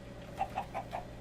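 A Minecraft chicken clucks in four quick, evenly spaced notes, soft and close, over a low steady game hum with no talking.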